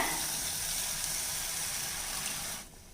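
Water pours steadily into a pan of sautéed egg curry, a continuous broad splashing gush that runs for a few seconds before stopping abruptly, heard alone with no talk.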